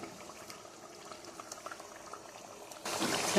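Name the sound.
ginger garlic onion paste frying in hot oil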